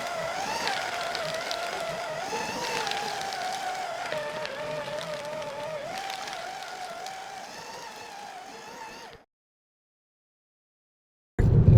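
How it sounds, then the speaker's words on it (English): Car driving into the city, heard from inside as a steady engine hum and road rumble with shifting tones, then a sudden cut to silence and a loud thump at the end. "We're driving into the city"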